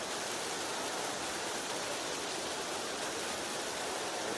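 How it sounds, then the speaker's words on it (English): Heavy rain pours down over an outdoor rugby match, a steady, dense hiss that stays even throughout with no voices or other distinct sounds. "in the heaviest rain of the season"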